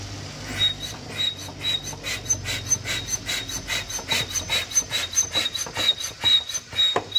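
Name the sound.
brake fluid bleeder suction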